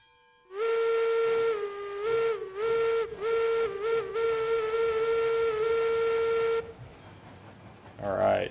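A steam locomotive whistle in the video game Railroads Online blows long, loud tonal blasts broken by brief pitch dips and short gaps for several seconds, then cuts off, leaving a low rumble.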